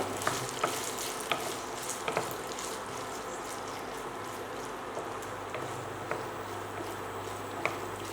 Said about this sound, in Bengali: খুব সুন্দর করে ভেজে নিতে হবে আগে তেলে শুটকিটাকে